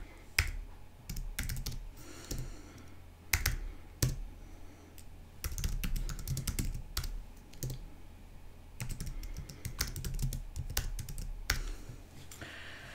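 Typing on a computer keyboard, with irregular bursts of sharp key clicks and pauses between short runs, close and fairly loud, with no talking.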